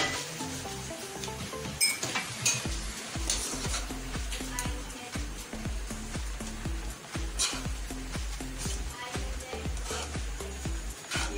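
Fried rice with egg is stirred and tossed in a hot pan, scraping and clinking steadily while a soft sizzle runs beneath the rhythmic strokes.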